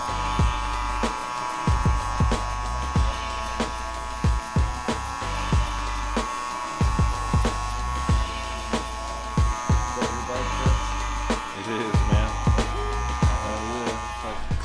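Electric hair clippers fitted with a 1 guard buzz steadily and close up while trimming hair, with a bright constant motor whine broken by frequent short snips and brushing ticks as the blades move through the hair.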